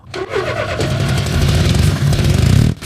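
An abandoned police car's engine in a video game cranks and catches, then runs with a rough, rumbling idle that swells louder before cutting off abruptly.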